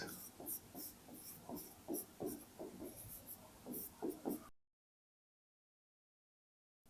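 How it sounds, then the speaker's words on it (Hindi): Chalk or marker writing on a board during a physics lesson on magnetic fields, with a steady run of short scratchy strokes for about four and a half seconds, close and fairly quiet, then silence. "मैं लिखता हूं प्रॉपर्टीज"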